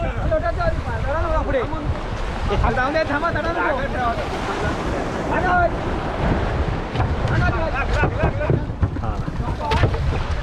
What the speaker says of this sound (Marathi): बघा बोट चालली आहे पाण्यामध्ये आता आपली